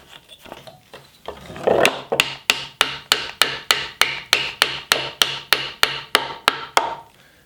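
A tapered wooden peg being hammered into a tongue-and-groove joint in a wooden bench base, a run of about eighteen sharp, evenly spaced knocks close up with no talk, after a few softer taps.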